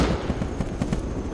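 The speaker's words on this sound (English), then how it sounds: "Someone shooting with an AK" AK rifle fire in a multiplayer video game raid, a rapid rattle of automatic shots at a steady quick rhythm, moderately loud and slightly distant, over one short burst without talk.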